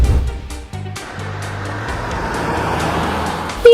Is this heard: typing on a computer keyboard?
no